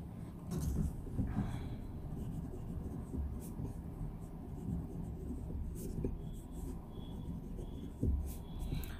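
A fountain pen nib glides across paper with a faint, close scratching that comes in short irregular strokes over a low background rumble.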